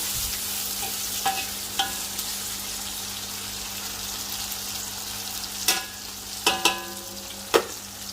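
Frozen fish tofu sautéing in a pan gives a steady low sizzle, broken by a few sharp clinks and scrapes of stirring scattered through the second half.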